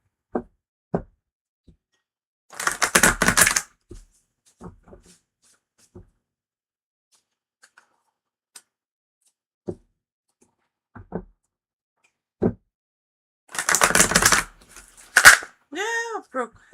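Tarot cards shuffled in two short bursts of brisk riffling, close and crisp, separated by sparse taps, knocks and handling sounds, with a brief voice near the end.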